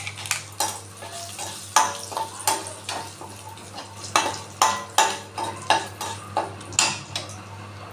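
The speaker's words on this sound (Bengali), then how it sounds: "এবার ওই তেলে শুকনো লঙ্কা তেজপাতা ফোড়ন দিলাম।" Dried red chillies and bay leaves crackle in hot oil left over from frying prawns, with a faint sizzle beneath a steady run of sharp metal spatula clinks and scrapes against the pan, close and rhythmic.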